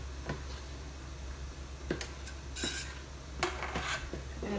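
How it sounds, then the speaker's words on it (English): Strawberry balsamic jam is ladled into hot, clean glass jars: quiet scattered clinks, taps and scrapes of the ladle against glass over a faint steady background hum. "And I go ahead and ladle this in to a 1/4 inch headspace."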